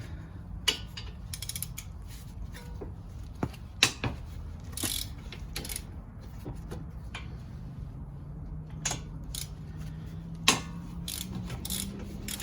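A half-inch ratchet works loose the front brake caliper bracket bolts on a RAV, giving quiet, irregular clicks and metallic ticks over a low background hum, with no talking.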